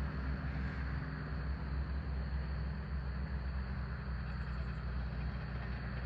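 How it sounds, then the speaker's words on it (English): Big diesel bulldozer crawling on tracks during a Kentucky wildfire, a steady low rumbling engine drone with broadband mechanical clatter, continuous and moderately distant, no talking. "That thing sounds like a dozer anyway."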